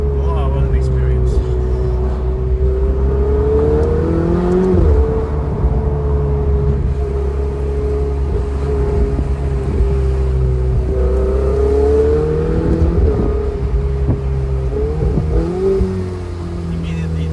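A Ferrari F80 engine drones loud and close from inside the car, its pitch rising and dipping as it revs and downshifts several times. Road noise runs underneath throughout.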